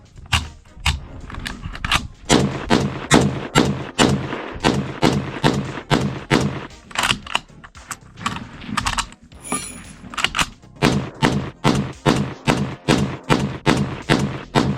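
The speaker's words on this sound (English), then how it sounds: "Let's shoot more, 20 rounds." Rifle shots at an outdoor range from a Remington 700 or SKS firing surplus ammo, a long series of sharp, loud reports in fairly regular quick succession with a short lull midway.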